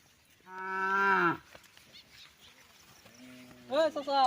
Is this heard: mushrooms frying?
no